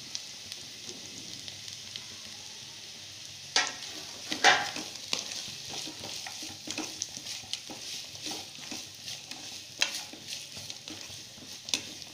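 Radish and onion frying in a pan for a radish-and-egg stir-fry, with a soft continuous sizzle broken by scattered stirring scrapes and utensil knocks, fairly quiet and close.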